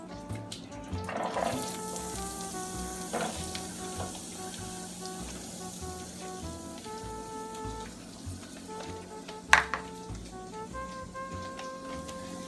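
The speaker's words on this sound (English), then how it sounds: "now we're going to put in the celery, onion, and sausage" Celery, onion and sausage cooking in a pan for Thanksgiving stuffing, a soft continuous sizzle under faint kitchen background sounds and tonal music, with one sharp clink near the end.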